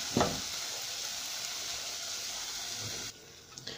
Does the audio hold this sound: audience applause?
no